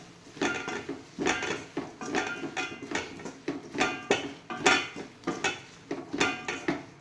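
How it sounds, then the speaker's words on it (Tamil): Soya chunks stirred with masala in a pan over a low flame, a spoon repeatedly scraping and clinking against the metal in a steady, close rhythm with no voices. "அதனால் ஸ்டவ்வை லோ ஃப்ளேமில் வச்சு ஒரு 5 மினிட்ஸ் மட்டும் அப்படியே லேசாக கிண்டி விட்டே இருங்க"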